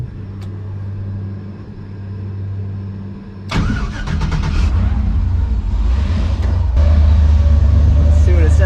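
A low steady hum, then a car engine cranks and catches, settling into a steady idle, during a charging-system test with a Topdon BT100 battery tester.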